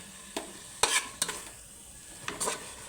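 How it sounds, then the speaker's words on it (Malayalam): Masala being stirred in a pan for prawns, four distinct scraping strokes of a spoon against the pan over a soft background sizzle, close and clear, with no talking. "മസാല ഇളക്കിക്കൊണ്ടിരിക്കണം കേട്ടോ"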